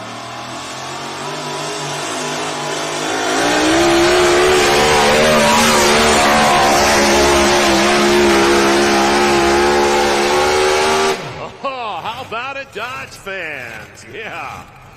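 Shotgun red Dodge Ram Hemi pulling truck at a truck and tractor pull, its engine roaring loud and climbing in pitch over a long hard pull before cutting out, with an announcer talking throughout.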